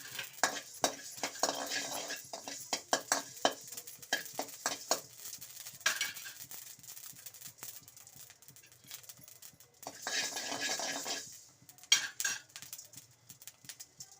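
Amla is dry roasted in a pan for pickle, with a utensil scraping and clattering in quick irregular strokes over a soft crackling sizzle, close and fairly quiet.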